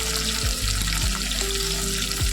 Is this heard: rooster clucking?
no